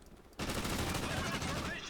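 Sustained automatic gunfire from a Call of Duty Ghosts multiplayer match, erupting abruptly after a quiet start and continuing as dense, loud rattling bursts.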